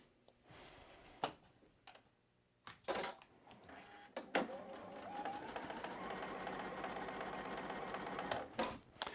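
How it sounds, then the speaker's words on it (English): A sewing machine stitching fabric squares together for a patch quilt block runs in short bursts and then a longer steady whir, quiet and close, with scattered clicks between runs. "we're going to sew these all together to make it happen"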